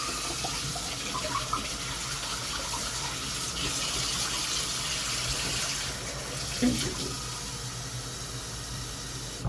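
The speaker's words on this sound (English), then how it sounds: "I'm gonna rinse out these bowls" Water runs steadily from a tap into a sink while bowls are rinsed, a continuous splashing rush with a few small clinks partway through.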